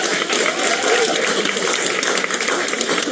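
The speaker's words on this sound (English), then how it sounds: "That's where the applause comes in." Dense, steady applause from a concert audience at a performance at the Pinoy Playlist Music Festival fills the space, a continuous wash of many hands clapping at even loudness throughout.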